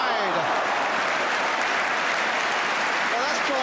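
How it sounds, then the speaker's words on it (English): Arsenal fans applaud steadily in a stadium during a 1976 football match, a broad wash of crowd clapping that runs through the whole stretch at moderate distance. "Drawn some applause from the Arsenal fans."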